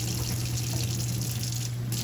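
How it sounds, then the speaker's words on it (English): Tap water runs steadily into a sink while a cast iron pan is washed with dish soap, a soft continuous splashing hiss with a low hum underneath and no voices. "Let me turn the water off for a minute."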